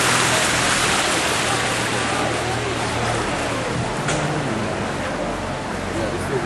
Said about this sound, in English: I like the waterfall on our left.